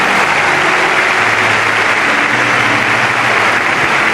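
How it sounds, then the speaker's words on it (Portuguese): Loud, dense applause from a large audience fills an indoor church gathering, steady and continuous throughout. "forte aplauso para quem veio de fora do país"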